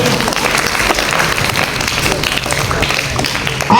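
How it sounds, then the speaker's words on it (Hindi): Audience applause at a school quiz competition, a steady, loud wash of many hands clapping that carries through the whole moment without pause. "तालियां।"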